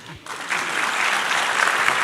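Audience applause at the opening ceremony of the Nowe Oświecenie festival in Warsaw's Ursynów district, a steady, full clatter of many hands that swells in after a brief voice and holds to the end.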